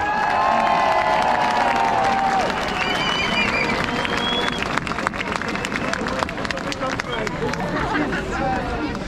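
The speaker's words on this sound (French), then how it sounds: "Applaudissez Laurent!" Crowd at a protest against the vaccine pass at Trocadéro in Paris, with loud sustained applause and cheering filling the space while a voice over a loudspeaker talks through it.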